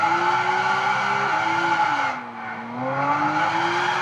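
Tires skid continuously on the Circuit de la Sierra rally track in Gran Turismo 6, a loud sustained squeal over the engine's steady drone, its pitch sliding down and back up as the car slips.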